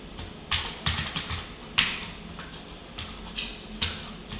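Computer keyboard keys typed in short bursts of several clicks each, separated by brief pauses, moderately close and fairly quiet, with no voices.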